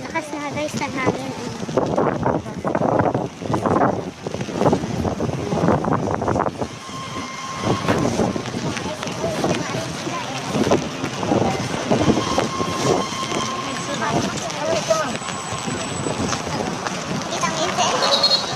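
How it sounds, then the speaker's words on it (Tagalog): Strong typhoon wind buffets the microphone in gusty, roaring bursts throughout, swelling and easing unevenly, while people talk over it at close range. "Lakas na guys ng hangin."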